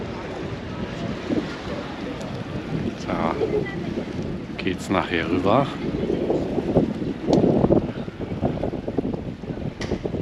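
A ferry harbor waterfront on the Dardanelles at Çanakkale, with steady wind and water rumble and faint boat ambience throughout while someone talks briefly over it.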